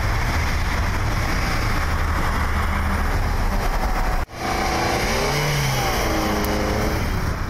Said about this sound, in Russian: А вот так выглядят различные ситуации заноса и выхода из них.